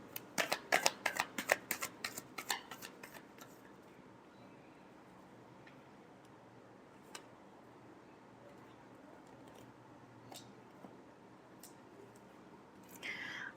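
Tarot cards are shuffled close up, giving a quick run of crisp riffling flicks and slaps in the first few seconds before it falls to quiet, with a faint final card sound near the end.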